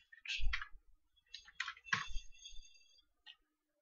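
A handful of crisp, close computer mouse clicks, irregularly spaced with short pauses between them, while navigating to add-ins in Excel.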